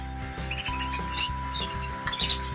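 Small caged breeding birds chirping, with several quick, bright tweets scattered over a steady tonal hum and mechanical background noise.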